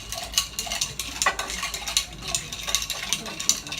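A utensil stirs oil in a small container up close, giving steady light clinks and scraping taps against the sides for a few seconds, with no talk.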